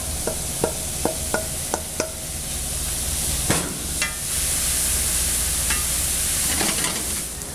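Onions and portobello mushrooms fry in a pan with a steady sizzle throughout, while a utensil scrapes and taps against the pan several times, most often near the start.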